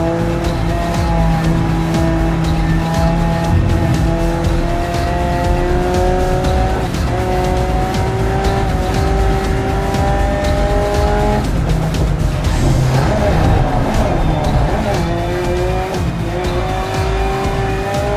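A race car in the racing video game Grid Legends roars loudly and continuously, its engine climbing through repeated gear-change sweeps, with tires squealing through corners and a brief skid partway through.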